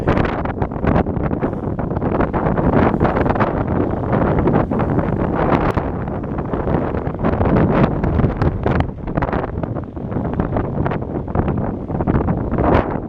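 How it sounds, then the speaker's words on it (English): Heavy wind buffets the microphone without letup at Foxrock station in Dublin, a loud, rumbling roar that swells and dips throughout. "I don't have a microphone, so it is very windy."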